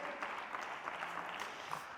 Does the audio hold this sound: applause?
yes